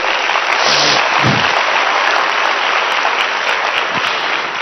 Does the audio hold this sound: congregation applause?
yes